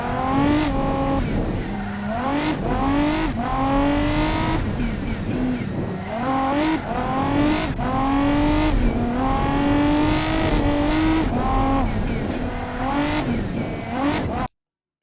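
A high-horsepower light utility vehicle races in BeamNG, its engine revving up and dropping through repeated gear shifts, loud and continuous with tire squeal, ending abruptly.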